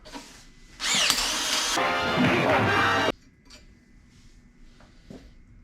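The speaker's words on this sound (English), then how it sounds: "this drill is toast" An overheating power drill whines loudly for about two seconds, then cuts off, leaving faint clinks and light tool noises.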